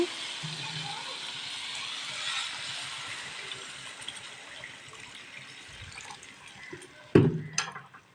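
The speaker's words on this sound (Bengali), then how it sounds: "সুন্দর কষা হয়ে গেছে এবার জল দিয়ে দেব" Water pours into a pan of fish curry masala cooked with chilli and cumin powder, giving a steady rushing hiss for several seconds that fades before a sharp clatter of the pan near the end.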